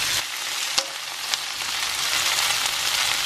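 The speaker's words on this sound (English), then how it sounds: "I got the wok out for the veg, and I'm gonna put these two first because they take the longest to like soften up." Vegetables and egg noodles stir-fry in a wok with a loud, continuous bright sizzle, broken by a couple of sharp clinks from stirring.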